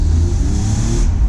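A BMW E36 328i engine revs and accelerates loudly and close with the roof off, a deep steady roar with rising pitch throughout.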